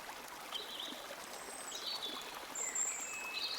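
Gentle river water babbling and trickling steadily, faint and close, with a few soft bird calls over it.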